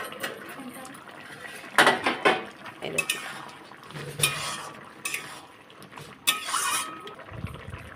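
Metal pot lid lifted and set back over simmering curry of ridge gourd, potato, peanut and poppy seed paste, with several close, sharp clinks and scrapes of cookware spread through the clip.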